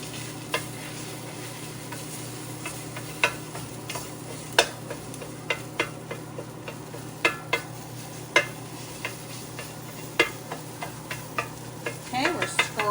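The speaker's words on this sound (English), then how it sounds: "we're scrambling these babies up" Eggs being scrambled on a Ninja Sizzle griddle, with a steady sizzle and frequent light scraping taps of a utensil on the cooking surface, close and continuous.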